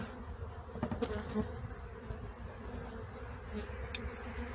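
Honey bees swarm around a beehive stacked with two nearly full honey supers, their buzzing a soft, continuous drone with a few individual bees zipping close past the microphone.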